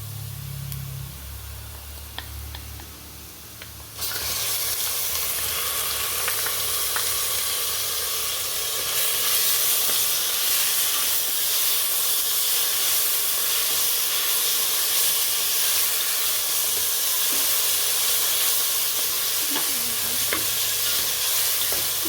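Ginger garlic paste hitting hot oil in a pan for mutton biryani sets off a sudden loud sizzle that stays strong and steady, with occasional stirring scrapes and no talking.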